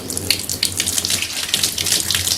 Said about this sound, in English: put just a little over a cup of water, barely a cup of water